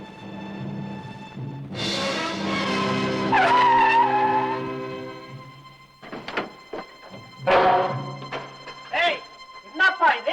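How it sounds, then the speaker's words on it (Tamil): A vehicle passes along a road with a loud, droning tonal whine that swells and fades, followed by scattered knocks and voices talking nearby. "சக்கரை வண்டி போகுது."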